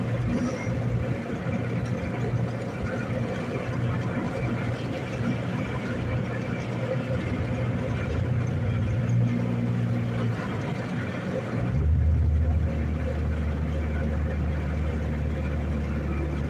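Rumbling road and engine noise pouring through an open window of a moving company truck while cruising, a steady loud wash of wind and tire drone with a lower engine note that shifts near the end, speech mixed in.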